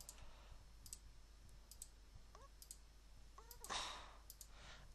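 Single mouse clicks while playing Terraria: a handful of light, sharp ticks spaced irregularly over a quiet background hiss, with a brief breathy sound near the end.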